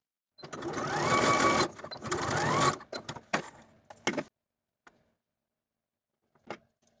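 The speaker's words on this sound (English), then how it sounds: "I'll take these bodice pieces to the sewing machine and sew from the outer edge to the point" A sewing machine runs in two steady whirring bursts of stitching darts on fabric bodice pieces, followed by clicks and clunks of handling, then quiet.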